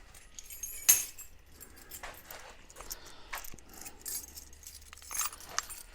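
Car keys for a GQ Patrol jangle and clink near the ignition, a few sharp metallic rattles over quiet background, with no talking.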